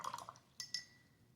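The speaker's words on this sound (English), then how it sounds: "I'm going to wet my brush" A watercolour paintbrush is swished and tapped in a water jar, giving a few faint, quick liquid clinks and splashes, two sharper taps near the middle, and quiet between them.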